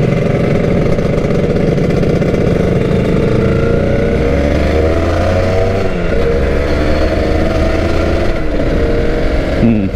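A Honda NSR250 motorcycle engine idling after a new CDI was fitted, a steady, loud, close two-stroke rumble with slight pitch shifts, running on its own throughout.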